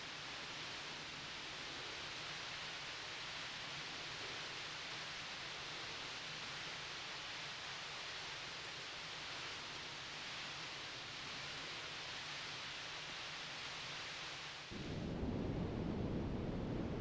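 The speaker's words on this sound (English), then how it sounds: "Maybe you need some rain." Synthesized rain ambience from a MetaSounds noise generator in Unreal Engine 5: a steady, dense, hissing wash of noise that holds evenly for a long stretch before shifting abruptly into a heavier, lower rumble near the end.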